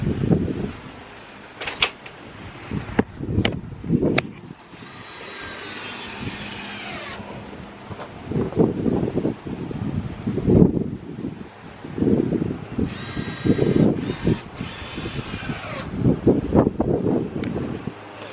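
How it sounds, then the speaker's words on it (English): Gusty wind buffets the microphone outdoors, with rumbling bursts and rustling, alongside some clattering and occasional mechanical whine. "It's windy, so I might have to put music over it or something"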